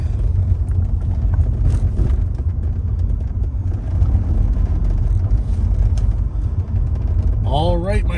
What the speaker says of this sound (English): we're behind the wheel now of the SL 600, the V12